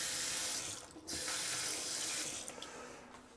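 Tap water runs steadily into a sink in a home laundry room that also holds a washer and dryer, a continuous broadband hiss at close range with one brief break near the second mark.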